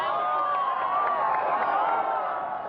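A crowd at the finish of a cycling race in Saigon cheers and whoops continuously, a dense wash of many voices shouting at once, loud and sustained.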